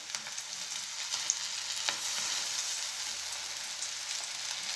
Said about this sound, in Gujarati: તો તેલ ગરમ થઈ ગયું છે, તો આપણે પકોડા ઉતારી લઈશું.